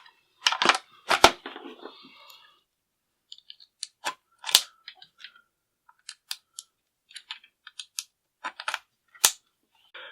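Metal parts of a CETME-L rifle clicking and sliding as the rear assembly is reinstalled, a cluster of sharp clacks at the start followed by sparse, scattered close clicks and taps.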